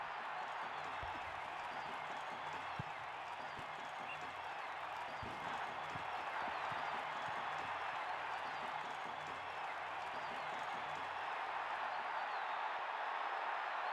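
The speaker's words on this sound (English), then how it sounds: "this crowd noise is so repetitive" A video game crowd produces a steady, faint, looping wash of cheering and clapping with occasional whistles, continuous in the background throughout with no talking.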